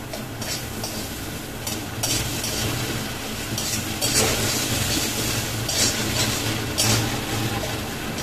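Bitter gourd fritters frying in ghee or oil in a pan give a steady, broad sizzle with occasional scraping stirs, loud and continuous throughout.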